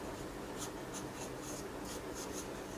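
Pencil strokes on paper while lotus petals are being drawn, a run of short rhythmic scratching marks over a soft steady background hiss, close and quiet with no talking.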